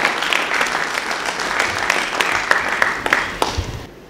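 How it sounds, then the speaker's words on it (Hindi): Applause welcoming guests at a mushaira poetry gathering, a dense, steady wash of many hands clapping that fills the whole stretch and fades out at the end. "भरपूर तालियों के साथ हमारे मेहमानों का इस्तकबाल करें"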